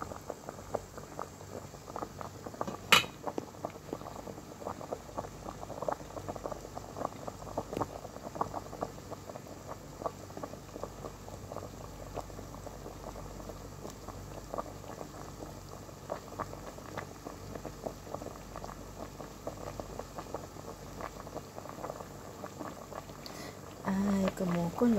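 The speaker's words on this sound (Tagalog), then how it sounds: "Ay, kumukulo na siya." A pot of water with string beans bubbles at a steady rolling boil close by, a constant dense patter with a faint clatter near the end.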